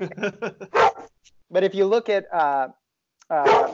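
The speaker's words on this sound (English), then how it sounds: "that's my dog" A pet dog named Marvin barks excitedly in a few short bursts alongside someone talking, the yips loud and close, mixed in between and over the speech.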